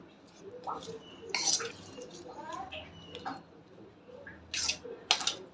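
Carrot koshimbir salad is stirred in a bowl with a spoon, giving scattered light clinks and scraping taps against the dish, several sharp ones near the end, quiet and close.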